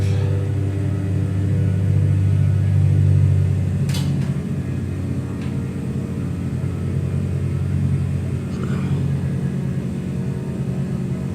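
Steady, loud drone of the twin push-pull piston engines of a Carenado 337 Skymaster in a flight simulator on an ILS approach, a continuous low hum with brief higher clicks and tones around it, no talking.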